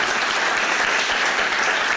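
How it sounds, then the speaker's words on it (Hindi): A theatre audience at a musical stage play during the Natak Nama 2021 festival breaks into loud, dense applause, a continuous wash of clapping lasting about two seconds. "ज़ोरदार तालियों के साथ जनाब ज़फ़र मोहिउद्दीन के लिए।"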